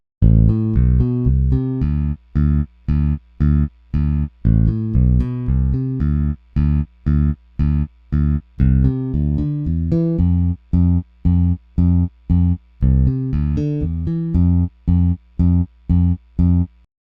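A bass guitar plays a steady, rhythmic riff of short repeated notes through a noise gate with its threshold set too low, a low hum and noise carrying through the gaps between them.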